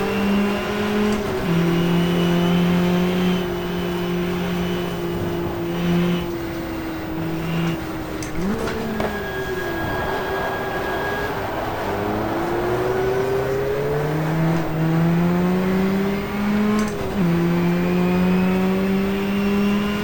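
Race car engines in the GTR2 racing video game scream through gear changes during a 1994 GT race at Jarama, including a Lease Plan Venturi; one loud engine rises and drops repeatedly as others whine alongside.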